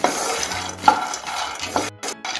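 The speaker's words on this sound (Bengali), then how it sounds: "অনবরত এভাবে নেড়ে চেড়ে বাদামগুলো ভেজে নিতে হবে।" Peanuts stir-fried in a dry pan, a close, fairly loud rustling and scraping as the nuts are turned constantly, with a light sizzle underneath and a brief clink, no talking.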